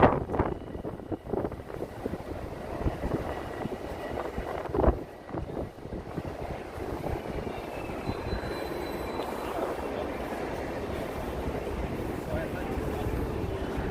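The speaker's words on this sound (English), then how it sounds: "It's so windy." Gusty wind buffets a microphone outdoors above 11th Avenue in New York City, a continuous broadband rumble with a sharp gust near the middle, while traffic noise and occasional voices sit faintly underneath.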